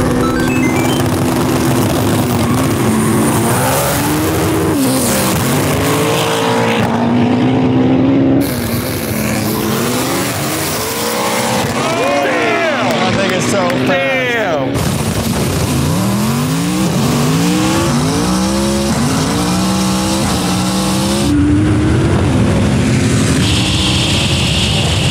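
Several race car engines, including a Toyota MR2 and an AWD Mustang of about 1300 to 1400 horsepower, roar and rev, pitches sweeping up and down as the cars pass close by, loud and continuous with brief gaps.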